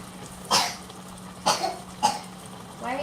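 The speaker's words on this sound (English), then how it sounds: "Why are you coughing?" Three sharp coughs from a sick person in a kitchen at uneven intervals, fairly close, followed by a short breathy sound, over a faint low hum.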